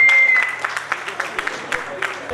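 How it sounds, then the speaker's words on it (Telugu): An audience at a Rotary Club installation ceremony in Nizamabad gives a professor a brief round of applause, a patter of moderate claps lasting a couple of seconds with voices mixed in. "చప్పట్లతోనే వెల్కమ్ చెప్తాను"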